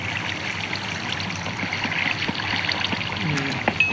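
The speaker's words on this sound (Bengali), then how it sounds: "জল পড়ছে" Minecraft water flowing in a steady stream, a light continuous trickle and splash at moderate level with small clicks and game noises scattered over it.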